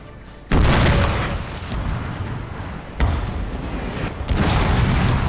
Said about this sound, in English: So whilst my artillery's giving them hell